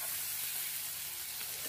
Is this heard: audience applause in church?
no